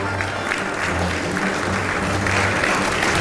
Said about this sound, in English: Please let's stand and give him a round of applause.